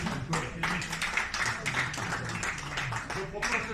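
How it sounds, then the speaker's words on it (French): A room of members at a communal boules club's annual general meeting gives the outgoing committee a sustained standing round of clapping, steady and fairly close, with voices mixed in. "qu'on renouvelle nos applaudissements pour le bureau sortant, mais debout"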